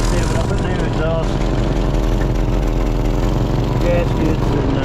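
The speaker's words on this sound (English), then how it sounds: "There's a little bit of exhaust leak at the high connection down here" A 1931 Ford Model A four-cylinder engine idles with a small exhaust leak at the manifold connection, a steady low rumble with a faint ticking throughout, heard up close under intermittent voices.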